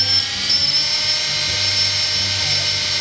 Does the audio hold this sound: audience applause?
no